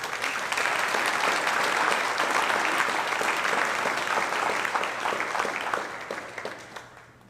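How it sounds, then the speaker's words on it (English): An audience at a school athletics hall of fame induction ceremony claps for an honored wrestling team, dense sustained applause that holds steady, then thins and fades toward the end. "One more round of applause for the 94-95 wrestling team."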